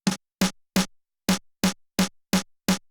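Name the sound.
snare drum with saturation plugin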